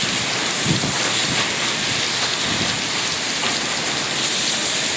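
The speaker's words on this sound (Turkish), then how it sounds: "Bir anda bastırdı, bir anda hava kapandı ve sonunda yağmur geldi." Heavy rain pours down in Adana during a sudden September downpour, a dense, loud, continuous hiss of falling water.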